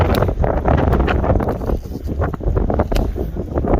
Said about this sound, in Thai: โอ้โหลมก็แรงนะคะ